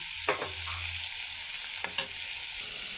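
Spices, salt, turmeric, chili powder and green chilies are stirred into a frying vegetable curry, a steady soft sizzle with a couple of brief spoon scrapes, close and quiet, no talk.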